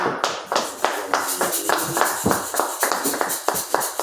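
A church congregation claps in steady rhythmic beats, loud and close, acclaiming Jesus with voices mixed in throughout.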